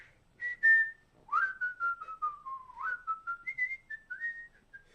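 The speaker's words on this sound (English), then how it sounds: "Can you guys hear my whistling?" A person whistles a slow melodic tune alone, clear sliding notes in short phrases, close and fairly soft with a quiet background.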